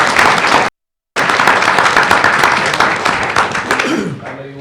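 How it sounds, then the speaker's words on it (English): Loud close applause at a board meeting honouring finalists, dense clapping briefly cut by a gap of silence, then resuming and thinning out as a voice begins at the end. "let's give them a round of applause."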